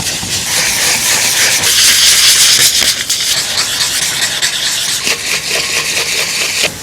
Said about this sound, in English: what I'm going to do is Scotch-Brite the entire thing